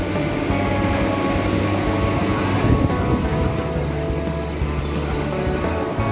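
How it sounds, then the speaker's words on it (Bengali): Steady rumble of a Howrah–Bardhaman main line local passenger train departing, with low mechanical drone and rattling, continuous and fairly loud throughout. "এই তো ট্রেন প্রায় ছেড়েই দিয়েছে"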